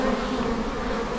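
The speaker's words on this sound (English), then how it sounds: "So these are the nice lovely bees that have came in my garden" Honey bees buzzing in a garden, a steady close droning hum that runs without a break, with no voices.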